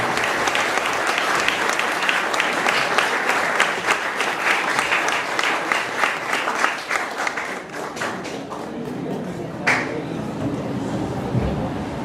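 An audience at a cultural center applauds as an archaeologist is welcomed to give a talk, a loud, dense burst of clapping that gradually thins into sparser claps before a single late clap.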